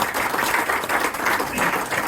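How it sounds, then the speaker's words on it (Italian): An audience applauds at a dental talk, a steady close wash of many hands clapping with no pauses and no voices. "in tutto e per tutto Massimo Carmando, e qui ci vuole un applauso"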